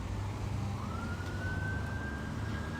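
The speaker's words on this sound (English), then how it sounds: "I can hear a siren, but unfortunately I can't see it." An emergency vehicle siren sounds on St. Clair Avenue West, a Toronto city street, as a steady wailing tone that slowly rises in pitch, moderately distant, over the low rumble of traffic.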